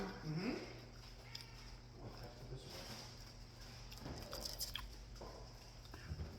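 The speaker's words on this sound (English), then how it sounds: "Or it's like when I'm chewing on it." Boudin balls being chewed close to the mic, soft wet biting and mastication sounds repeating quietly over several seconds, with a faint murmur in the background.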